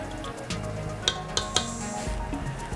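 A spoon stirs rice in a cooking pot, giving a few light metallic clinks against the pot over a steady low kitchen hum with faint sizzling.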